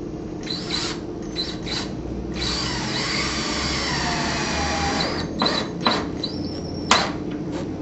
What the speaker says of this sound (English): place our trim head screw into the pre-drilled hole